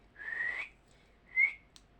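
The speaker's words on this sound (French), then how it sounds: "Ah, ça y est, j'ai retrouvé le sifflet." Two short whistle blasts, the first longer and wavering and the second brief and sharp, with a tiny click after them, close and fairly quiet in a still room.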